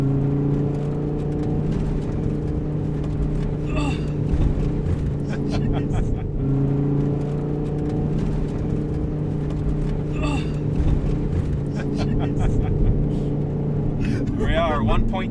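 Dodge Viper ACR with Extreme Aero Package driven hard on a track in cold weather, a loud steady engine drone with rising and falling pitch inside the cabin, someone talking over it.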